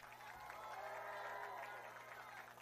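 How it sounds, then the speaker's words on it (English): Crowd applause and cheering at an outdoor Hollywood Walk of Fame star ceremony for Dr. Dre in Los Angeles, a steady roar of clapping with a faint hum underneath. "Once again, round of applause for Jimmy"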